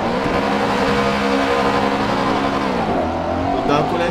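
A car engine in the GTA RP video game revs hard under heavy acceleration, a loud, steady, close roar that rises in pitch and briefly dips near the end.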